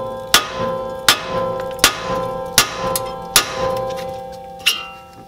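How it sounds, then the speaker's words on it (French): A hammer strikes a steering ball joint during gearbox and clutch work on a Passat 1.9 TDI: seven sharp metallic blows at an even, unhurried rhythm, each ringing briefly, loud and close with no talk. "On prend un marteau et on va venir taper ici."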